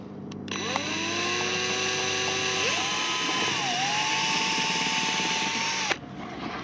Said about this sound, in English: Let's drill the other side.